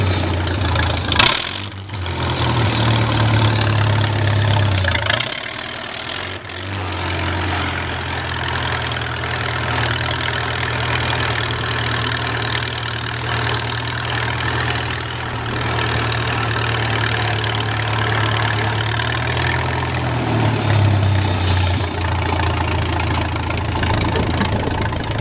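A 1950 Oliver 66 row crop tractor engine with a slightly faulty throttle runs steadily and loudly up close, a continuous low throbbing drone with brief dips and shifts in pitch as it changes gear.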